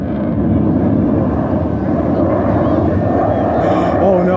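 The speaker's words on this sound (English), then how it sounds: "There goes the F-22 Raptor!" A Lockheed Martin F-22 Raptor fighter jet roars past during a 2024 airshow at Ocean City, Maryland, a loud, steady, broadband rumble that fills the whole stretch while spectators cheer over it.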